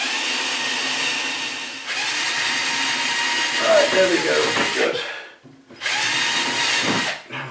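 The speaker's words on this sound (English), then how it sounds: "I've got to drill through these holes here" A power drill bores through pre-drilled holes in angled metal, running in long steady whining bursts broken by short pauses, with someone speaking briefly over it.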